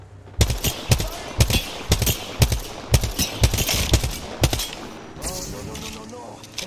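Rapid bursts of gunfire in the Apex Legends video game, sharp loud shots in uneven volleys of roughly a dozen, with voices talking around them.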